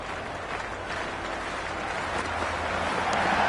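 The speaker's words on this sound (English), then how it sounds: "this crowd is already making it hard for me to be heard" A video game stadium crowd in Cricket 26 roars in a continuous wash of cheering and applause during a T20 match, swelling slightly louder toward the end.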